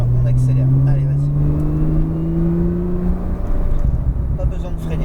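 A Porsche 911 Turbo S accelerates hard on the La Ferté-Gaucher circuit, its engine note rising steadily and loudly from inside the car, with a voice speaking over it.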